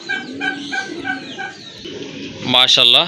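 A pair of Kagoji fancy pigeons coos at a sale alongside other birds, the soft repeated calls mixed with louder clucking, and a person talks over them.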